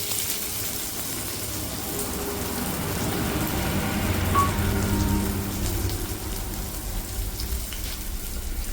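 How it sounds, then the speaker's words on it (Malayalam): Finely chopped onions sautéing in hot sunflower oil for chicken samosa filling, a steady close hiss and sizzle that swells slightly midway and carries on throughout with no talk. "ഇതിലേക്ക് നമുക്ക് കുറച്ച് ഉള്ളി ഇട്ട് കൊടുക്കാം. ചെറുതായിട്ട് അരിഞ്ഞതാണ് കേട്ടോ."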